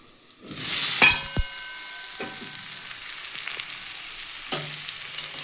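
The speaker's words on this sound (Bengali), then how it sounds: "খানিক্ষণ করে ফিরে আসছি ওটা ভাজা হোক" Potato and papaya frying in oil in a covered pan, a steady sizzle with a louder flare near the start and occasional clinks of a lid or utensil.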